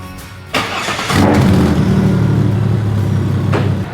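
A Toyota Land Cruiser 80 with a turbocharged Barra engine, fresh from a new water pump and belt refit, cranks briefly and catches. It settles into a loud, steady idle that fades slightly at the end.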